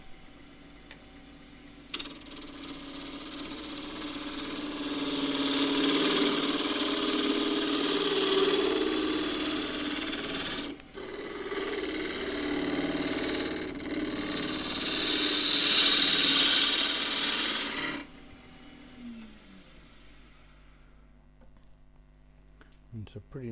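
A wood lathe spins a spindle while a half-inch spindle gouge cuts, giving two long bursts of hissing, scraping noise over a low motor hum, with a short pause between them.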